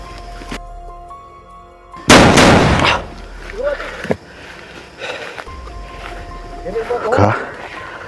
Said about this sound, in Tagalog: Parang may putok ng naririnig natin.